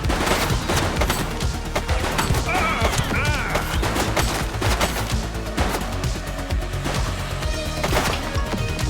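Dense gunfire in the police video game The Precinct, rapid overlapping shots and bursts in a loud continuous barrage with voices shouting over it.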